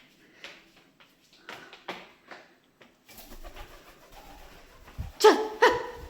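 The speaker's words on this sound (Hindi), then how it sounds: "मेरे घर में कबूतर घुसा आया" Soft pigeon cooing and rustling close by inside a house, a few short bursts with pauses, then louder sharp calls near the end.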